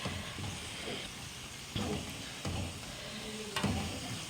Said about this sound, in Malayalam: അപ്പോൾ നമ്മൾ ഈ ചീരത്തോരന് നന്നായിട്ടിങ്ങനെ വഴറ്റണം.